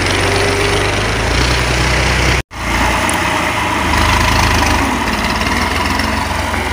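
The engine of an old Massey Ferguson 240 tractor runs steadily with a loud, continuous low rumble, broken once by a brief cut, and no voices are heard.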